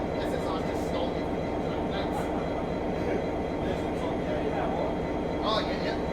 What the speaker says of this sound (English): I like the sound of this SSR locomotive